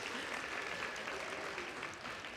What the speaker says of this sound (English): Next, round of applause for that group.